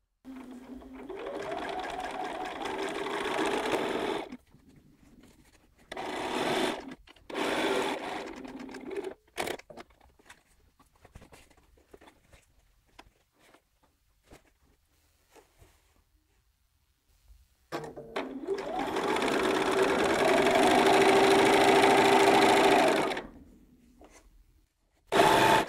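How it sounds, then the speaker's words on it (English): Sewing machine stitching table runner pieces together in two bursts, a longer steady run near the start and another near the end, with quiet handling sounds and brief clicks between, no talk. "I'm going back to the machine and I'm going to join those three first of all."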